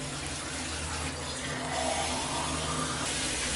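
Water pours steadily in a continuous splashing stream into a pot, filling it, with no voices.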